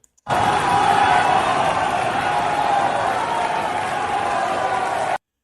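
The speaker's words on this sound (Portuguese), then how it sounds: "Está todo mundo vaiando o Petro." Deputies in the Colombian assembly booing Gustavo Petro, a dense, sustained roar of crowd voices that begins abruptly and holds steady throughout before cutting off sharply at the end.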